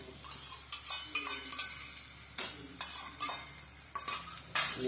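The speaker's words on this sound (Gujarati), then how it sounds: "એકદમ ચલાવવાનું, એટલે દહીં આપણું ફાટે નહીં, અને હજી ચટણી મસ્ત બની જશે." Sour curd being stirred into a garlic, onion and chilli chutney with ghee in a pan, a steady run of spoon scrapes and clinks over a soft sizzle, close and fairly loud, with no one talking.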